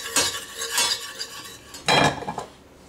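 Bovril beef extract stirred into a sauce in a pan: rhythmic metal utensil scrapes and clinks against the pan, with two or three louder sweeping strokes, close and without speech.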